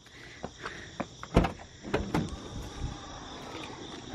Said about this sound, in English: I can open my own door.